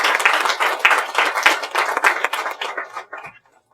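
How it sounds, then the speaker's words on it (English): A summit audience applauds with close, crisp clapping that holds for about three seconds, then thins to a few scattered claps and stops. "Let's give her a big round of applause."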